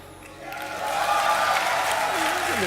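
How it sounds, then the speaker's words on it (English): A large arena crowd at the DreamHack Summer 2012 League of Legends grand final between CLG.EU and Moscow 5 swells into a loud, sustained roar of cheering and booing, with no one speaking over it. "Some of that noise were boos, by the way."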